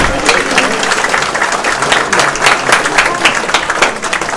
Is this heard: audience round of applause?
yes